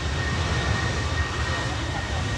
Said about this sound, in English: KLM departing now